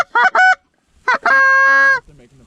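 Geese honk loudly and close by as a flock flies in, with two short calls, a pause, then a quick pair ending in one long drawn-out honk, followed by fainter calls.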